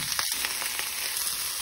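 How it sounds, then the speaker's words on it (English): Steady, crackling sizzle of jerk pasta with prawns frying in a hot pan, continuous and close, with a few soft scraping clicks and no voices. "I'm literally going to pan fry it for like a couple of minutes"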